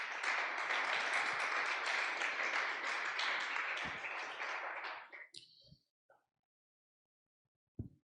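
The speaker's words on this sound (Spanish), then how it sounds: "Dele un fuerte aplauso a Dios." Church congregation applauding during a Spanish-language service: dense, sustained clapping for about five seconds that fades out into near silence, with a few faint knocks afterward.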